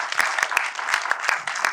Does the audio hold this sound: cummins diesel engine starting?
no